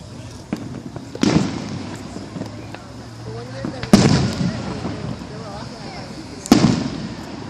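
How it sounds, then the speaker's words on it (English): Fireworks set off on school grounds in Santa Maria, California: three sharp booming bursts spaced a few seconds apart, echoing outdoors, with voices and faint traffic noise between them. "Someone was firing fireworks at the school grounds."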